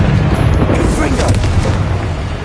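Confringo blasting spell explosion in the video game Hogwarts Legacy, a loud booming burst with heavy rumbling that persists for a couple of seconds, a voice talking over it.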